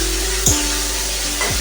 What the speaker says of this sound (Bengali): ডিমগুলো দেওয়া হয়ে গেছে, এবার আমি নাড়িয়ে নেব ভালো করে।